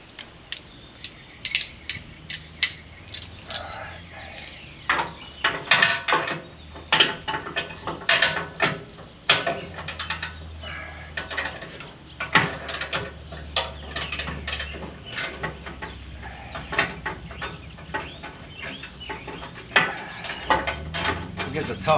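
A hand ratchet loosens bolts to pull the bumper off a 55 Chevy, giving bursts of rapid clicking pawl ticks between pauses and metallic handling noises, fairly close, with someone talking intermittently over it.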